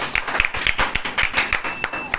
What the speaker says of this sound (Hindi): इसके लिए भी ताली बजाया जाए।